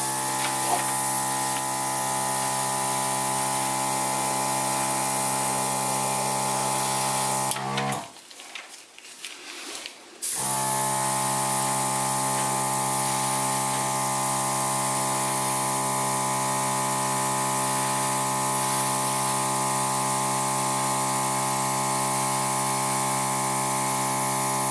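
An airbrush sprays vibrant Rose Madder paint across a colourful flip-and-drag background, giving a steady droning hiss and hum that cuts out briefly partway through and then resumes, with no talking.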